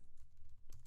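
A command is typed on a computer keyboard as a quick run of light, close key clicks, uneven in rhythm, with a louder cluster of presses near the end and no talking.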